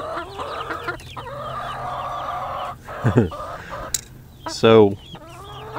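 Large young chickens cluck and squawk inside a homestead brooder, several close sharp calls over a low background hum, with someone briefly speaking.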